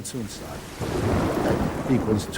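Heavy monsoon rain pours down in northern Burma while thunder rumbles low and continuously beneath it, loud and close, and the roll swells in the middle of the stretch.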